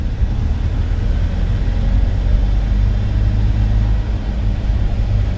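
Car engine pulling steadily in third gear during a driving lesson, a continuous low rumble with road noise that holds loud and even throughout, no voices over it.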